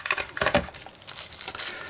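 An old plastic bag crinkles and rustles up close as a Vaporesso vape device is handled and unpacked, with brief irregular crackles over two seconds.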